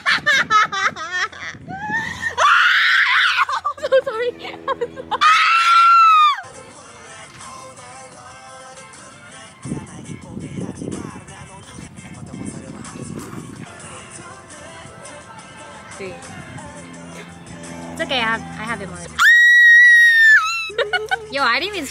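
Excited fan screams in bursts of high, piercing shrieks and squeals during a birthday celebration for a K-pop idol, loud and close, alternating with quieter stretches of background music and sound.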